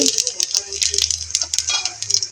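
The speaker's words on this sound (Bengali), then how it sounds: "তেল গরম হয়ে গিয়েছে, সাদা জিরেটা দিয়ে দিচ্ছি" Cumin seeds crackling and sizzling in hot oil on a stovetop while cooking a chicken curry, giving a close, steady hiss with quick, busy pops throughout.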